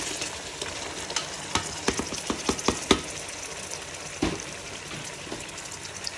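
Chicken frying in a pan with softened tomatoes for chicken pulao, a steady sizzle under repeated scraping and clacking of a spoon stirring, close and moderately loud.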